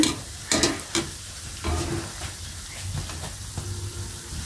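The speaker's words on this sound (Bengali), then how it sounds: "তো আমি পিঠাগুলো ভেজে নিচ্ছি, অনেক ফুলে উঠছে।" Date pitha cakes fry in oil over medium heat and puff up, giving a steady close sizzle and hiss with a few sharp clinks and scrapes of stirring near the start.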